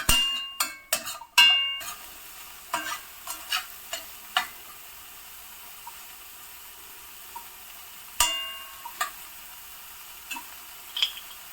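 Chopped vegetables sauté in butter in a pan for a lemon coriander clear soup, with scattered spoon clinks and scraping stirs over a faint, steady sizzle, busiest at the start and then sparser.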